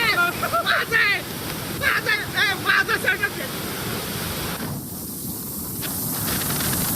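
A waterfall in heavy rain, water spraying and crashing as a steady broadband rush that runs throughout, with people talking over it in the first half.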